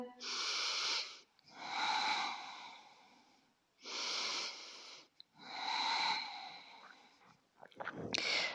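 Slow, deep breaths during a yoga pose, each long inhale and exhale drawn audibly through the nose with a slight wheeze, repeating in a steady rhythm, close and alone with no talking.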